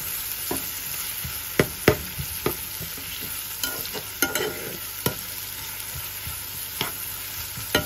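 Onions with green chillies and salt frying for a Bengali-style mackerel bhaji, a steady close sizzle broken by scattered sharp clicks and scrapes of stirring, with no voices.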